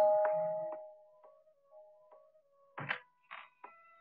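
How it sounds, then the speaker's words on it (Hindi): A doorbell chimes in a comedy scene, a few soft ringing tones that fade out. Short sharper clicks and dings follow, with no talk. "मगर तुमने ये घंटी कैसे बजाई?"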